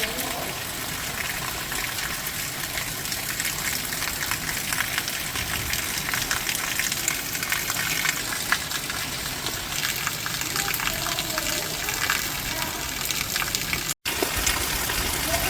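Heavy monsoon rain pours down on fields and hills, making a loud, dense, continuous rushing wash of water with one very brief dropout.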